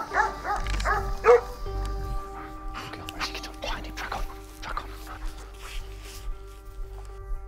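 Police dog barking repeatedly during a tracking training exercise outdoors, sharp barks in bursts mixed with a steady low engine hum and people talking nearby.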